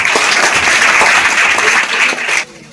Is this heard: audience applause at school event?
yes